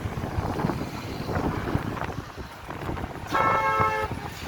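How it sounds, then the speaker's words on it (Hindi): Steady wind gusts buffet the microphone on the Yamuna bridge at Prayagraj, a continuous broadband roar, with a short horn toot from passing traffic near the end. "हाँ हाँ करके हवा चल रहा है"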